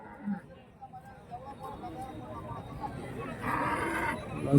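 Cattle at a market in Karimangalam, Dharmapuri, where milking cows and pregnant cows are sold, with a low moo rising amid a noisy crowd of talking people and general market bustle.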